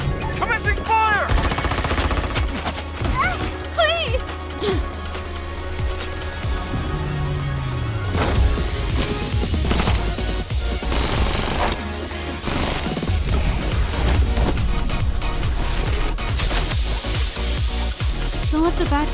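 Rapid machine-gun fire and gunshots in a Genshin Impact fan film, loud and sustained across dense bursts, mixed with shouted voices and other battle effects.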